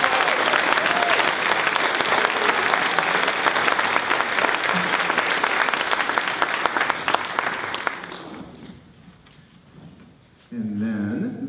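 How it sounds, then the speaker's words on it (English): Audience at a high school spring concert breaks into loud, sustained applause for about eight seconds, then it fades out and a voice begins speaking near the end. "A round of applause for our first 3 members."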